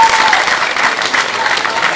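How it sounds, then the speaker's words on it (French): A theatre audience applauds Nicolas Turon at a stage show, with loud, dense clapping and some crowd murmur sustained for the whole short burst. "on peut l'applaudir."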